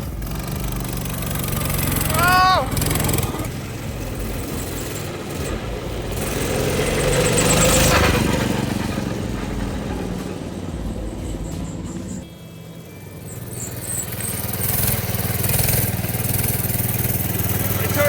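A small go-kart engine revs and drones loudly nearby, rising and falling in pitch as it speeds up and eases off, with a brief dip near the end.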